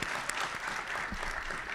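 A crowd at a college campus ribbon-cutting ceremony keeps up a brief, even patter of applause, moderately distant, with a few cheers mixed in.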